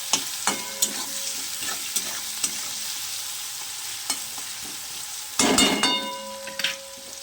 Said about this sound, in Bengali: এরপরে আমি এর সঙ্গে দিয়ে দেবো অল্প লবণ, যাতে এই পেঁয়াজটা আমার ভাজা হতে হতে ভাজার সঙ্গে গলে যায়।